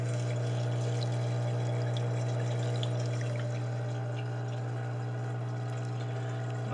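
Water washes fine gravel under an eighth of an inch through a homemade gold bowl, a steady close rushing flow with light trickling over a constant low mechanical hum, no talking.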